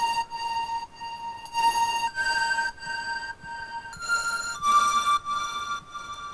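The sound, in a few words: synth sound from a track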